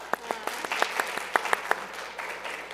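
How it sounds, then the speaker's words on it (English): Applause from a small congregation at a Friday night Shabbat service, a light, thin patter of relatively few hands with distinct individual claps standing out in an uneven rhythm. "Big round of applause."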